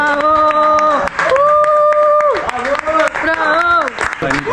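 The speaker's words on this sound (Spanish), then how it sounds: "un aplauso al asador" An audience applauds the grill cook at an Argentine-style asado gathering, with clapping running steadily under loud voices that cheer and talk over it throughout.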